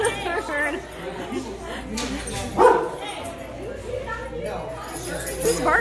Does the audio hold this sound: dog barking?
yes